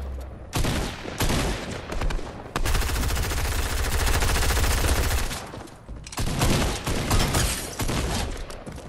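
Rapid Fortnite gunfire, a dense stream of automatic shots and bursts during a firefight, loud and close with brief pauses between volleys and no talking.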